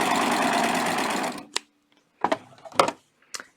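A serger runs along a napkin edge with a loud, fast mechanical chatter for over a second, then cuts off, leaving a few scattered clicks and taps.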